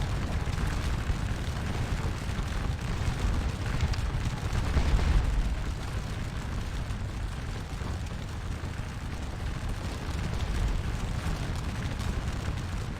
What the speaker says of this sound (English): Oh, I am being blasted by artillery from very far away.